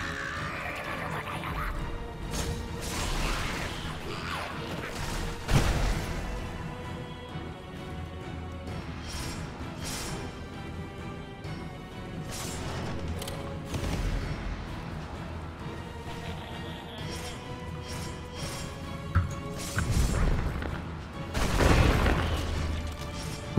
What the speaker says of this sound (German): Much explosion.